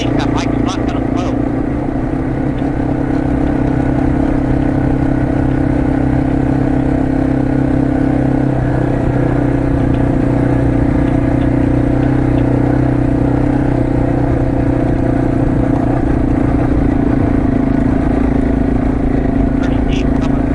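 A dirt bike rides off-road on a creek trail, its engine a constant loud droning hum close by, with brief clattering ticks at the start and end and voices talking intermittently.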